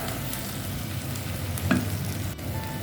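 Potato and cauliflower masala for aloo gobi being stirred in a pan, a short bout of steady sizzling with a soft scrape of the spoon and a faint clink near the middle.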